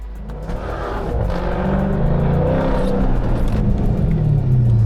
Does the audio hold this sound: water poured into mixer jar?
no